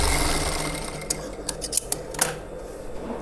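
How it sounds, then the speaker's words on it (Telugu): Sewing machine running a long basting stitch along folded fabric, a steady motor whir with a few sharp clicks and bursts midway, close and fairly loud, no voices. "దీన్ని ఇట్లా ఫోల్డ్ చేసి పెద్ద కుట్టు వేసుకోవాలి"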